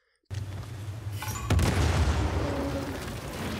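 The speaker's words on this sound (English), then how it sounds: "Explosions, fire, destruction, and gunshots are all hyper-realistic." A sudden loud boom erupts, followed by a sharp blast and rumbling, crackling explosions that continue, like an action-game battle scene.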